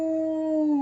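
A voice imitates a wolf howl, one smooth sustained tone gliding slightly downward, close and loud, lasting under a second.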